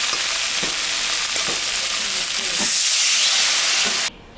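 Water poured into frying spices of turmeric, cumin, coriander, ginger and dried chili in a pan for rohu fish curry, giving a loud steady sizzle and hiss with faint stirring taps, cutting off abruptly near the end.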